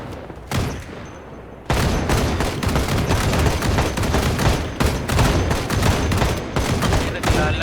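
Gunfire in the video game SEAL 6: after a short lull, dense rapid bursts of automatic weapon fire rattle on loudly and almost continuously, close and sharp.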